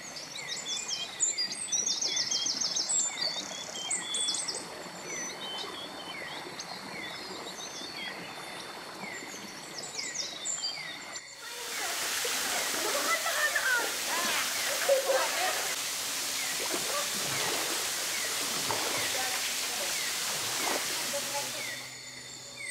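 Natural waterfall at Wasai 5, Bukit Telingan in Belait, heard as a steady broadband rush that swells in partway through, with bird chirps and insects earlier over quieter forest ambience.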